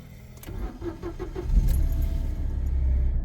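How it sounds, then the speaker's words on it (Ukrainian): A 2006 Toyota Aygo with a one-litre petrol engine and manual gearbox is started: a short cranking burst, then the engine catches and settles into a steady low idle, close and alone. "Запускаю двигунчик."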